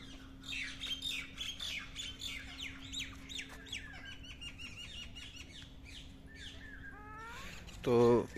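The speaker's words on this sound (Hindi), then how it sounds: "तो ये है रोज़ रिंग्ड पैराकीट, तोते वगैरह हैं" Rose-ringed parakeets and parrots at a zoo keep up a dense chorus of sharp squawks and chirps, with a louder harsh call near the end, heard over a steady hum and some background voices.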